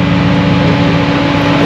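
Mercedes C63 AMG pulling up at a big car show in Fresno: a loud, close, steady V8 engine rumble with a deep low-end throb, heard briefly and alone.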